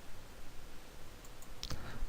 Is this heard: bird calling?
no